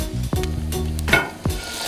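Sizzling leftover oil, grease and seasoning from frying salmon crackles in a hot pan at close range, with short bursts of stirring or scraping breaking through the steady fry.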